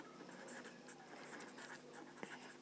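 Handwriting during a physics lesson on continuous charge distribution, a steady soft scratching of pen or marker that runs throughout, faint, with no talking over it.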